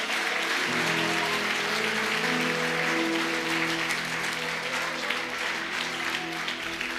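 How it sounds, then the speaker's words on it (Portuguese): Church congregation applauding the Lord, sustained crowd clapping over a held musical tone. "Se você crê, aplauda o Senhor mais uma vez."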